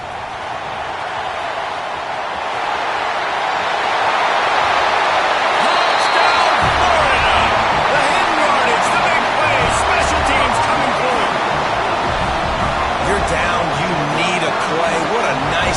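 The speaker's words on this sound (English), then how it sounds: "You can hear this home crowd going bananas" A home crowd at a Gators football game roars in a dense, sustained wall of cheering that swells after a big punt return and stays loud throughout, with a commentator talking over it.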